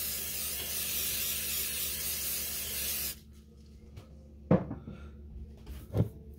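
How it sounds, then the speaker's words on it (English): Non-stick cooking spray hisses steadily and heavily onto a 9x13 baking pan for about three seconds, followed by a couple of dull clunks as the can and pan are handled. "Spray 9x13 pan. Heavy. With no stick spray."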